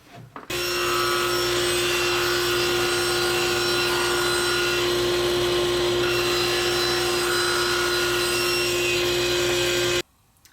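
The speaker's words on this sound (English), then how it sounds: "So let's get that dado cut." A power tool cuts a dado into a wooden box for a hardboard bottom: a loud, continuous high-pitched whine that starts abruptly, holds steady for about ten seconds, then stops.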